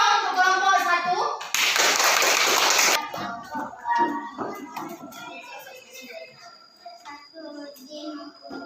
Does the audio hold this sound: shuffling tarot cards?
no